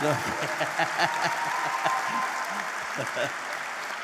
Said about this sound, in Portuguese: Quero aplaudir aqui os pastores.